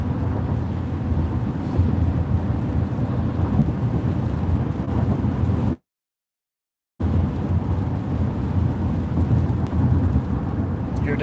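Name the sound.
thunderstorm with rain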